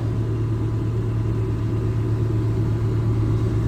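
An excavator's diesel engine runs steadily during brush clearing, a loud continuous low hum that stays even throughout, with no voices.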